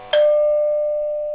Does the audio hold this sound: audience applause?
no